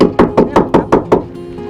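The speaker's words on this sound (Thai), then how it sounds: "ก็คือเคาะมันออกนั่นเองนะครับ มันแอบอยู่ในหอยนะ" A shell is knocked repeatedly to coax a small shellfish out, six sharp, evenly spaced raps in quick succession, close and loud, then a brief quiet tail.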